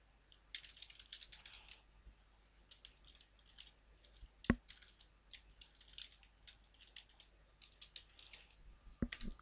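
Quiet keystrokes on a computer keyboard as text is typed into a Visual Basic project, irregular clusters of soft clicks with one sharper key press midway and a couple more near the end.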